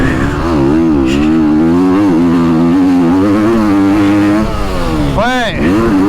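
A motocross motorcycle accelerating hard on a track at Trofarello, Italy; its loud, close engine note climbs and dips continuously, with a sharp rev near the end and a voice speaking over it.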